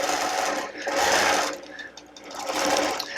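A sewing machine quilts a Flying Geese quilt in loud, close bursts of rapid stitching that surge and ease with brief slowdowns between runs.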